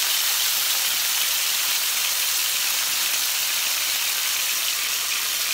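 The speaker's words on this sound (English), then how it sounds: "I'm gonna go ahead and add one of my steaks in it" Marinated steak for a jibarito plantain sandwich sizzles in a hot pan, a steady, dense hiss of frying that holds evenly and close throughout with no talk.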